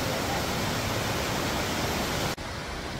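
A steady, loud rush of falling water from a waterfall on a countryside footpath fills the air as a continuous broadband roar, with a brief dip near the end.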